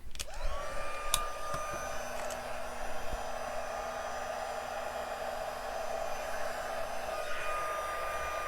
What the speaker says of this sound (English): we're going to bring out the heat tool one more time tonight